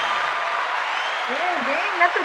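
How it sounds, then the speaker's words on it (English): Studio audience clapping to welcome guest Amanda Solis onto a talk show: a steady, dense wash of applause throughout, with a voice rising over it in the second half. "If you guys could give a round of applause to Amanda Solis."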